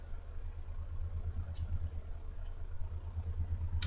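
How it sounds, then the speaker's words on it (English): Low steady drone of an MD-80 airliner engine in a flight simulator, a faint continuous rumble with a pulsing low hum and no voices. "this plane's known to have a loud engine"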